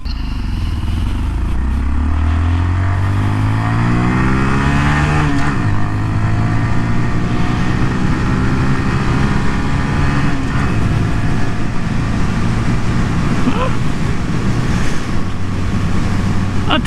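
A 2019 Honda Monkey motorcycle engine running flat out at top speed, its small single-cylinder drone climbing steadily in pitch through a long pull, loud and close with heavy wind rush throughout.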